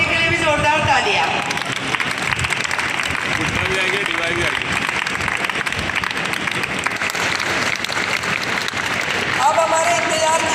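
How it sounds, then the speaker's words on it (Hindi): Children at a health screening event for a Special Olympics program for people with intellectual disabilities break into loud, sustained applause, dense clapping that fills the space alongside crowd noise and a few raised voices. "बच्चों सभी तालियों से भी उनका स्वागत करें और आज बनने के लिए भी जोरदार तालियां।"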